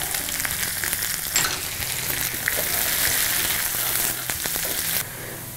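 Chopped shallots and curry leaves fry in hot oil in a pan for a mutton betel-leaf chukka, giving a steady, close sizzle with occasional crackles and stirring scrapes.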